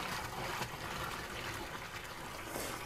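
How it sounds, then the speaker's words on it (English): Water pours steadily into a newly set up saltwater aquarium, a continuous close gushing and splashing with no break for about three seconds. "So I'll pour some more water in here."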